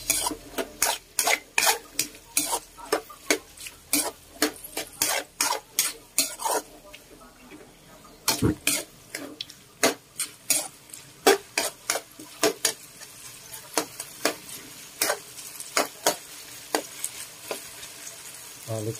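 A utensil stirs pork fat in a sizzling pan, making rapid, repeated scraping strokes in an irregular rhythm over continuous frying hiss, close and fairly loud.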